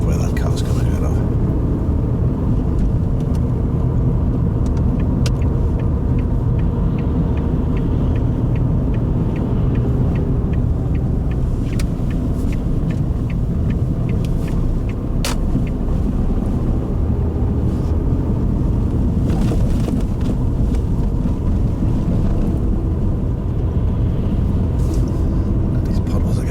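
A car drives along a road with puddles during a driving lesson, heard from inside as a loud, constant road-and-engine rumble with occasional faint clicks and voices in the cabin.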